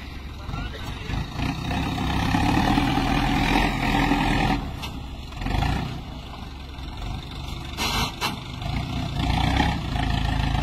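A tractor engine labors on desert sand dunes with a loud, rough, continuous roar that swells and dips as the throttle changes, heard close up.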